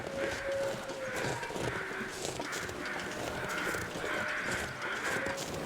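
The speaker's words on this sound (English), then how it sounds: "I hear a lot of crows." Crows cawing repeatedly in The Long Dark survival game, a series of harsh rhythmic caws at moderate distance over a constant wind-like ambient background, with no talking.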